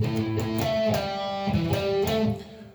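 An electric guitar plays a basic Texas-style blues rock riff in A, with rhythmic plucked notes and chord stabs repeating in a shuffling pattern, close and clear with no talking, tailing off at the end.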